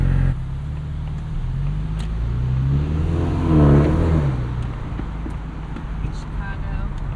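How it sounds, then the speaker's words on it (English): A 2024 Ford Mustang EcoBoost with active exhaust revs up, the engine note rising to a peak and then easing off in a steady drone, heard from inside the car with a low rumble throughout. "Active exhaust is singing the song of its people."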